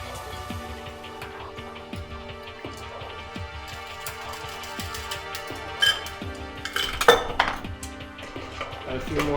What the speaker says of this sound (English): And then we're going to double strain this baby.